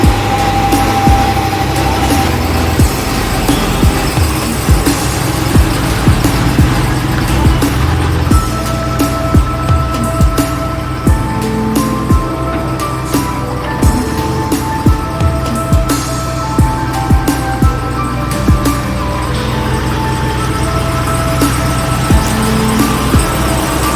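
A car drives along the road during a tire chalk test, heard as a loud steady rumble of engine and road noise from inside, with faint ticking and clunks over the constant drone.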